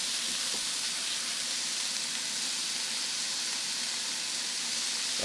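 Pieces of chicken for a cheesesteak sizzle and fry steadily in a hot pan, a continuous close, even crackle with a faint clink of stirring near the start.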